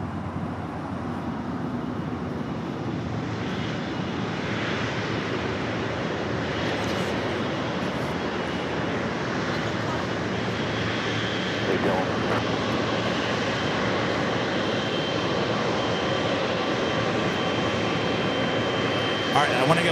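American Airlines flight 2974 takes off from runway 25 right at LAX, its jet engines a steady broad roar that swells slightly toward the end, with voices talking over the noise.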